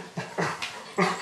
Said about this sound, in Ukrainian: Це Хена, собака-поводир Олександра Дармороса